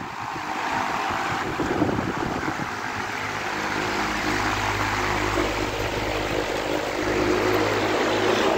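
A Global Industrial 36-inch high-velocity fan moving 10,500 CFM runs with a steady, close, broad whooshing roar and an added low hum that deepens partway through.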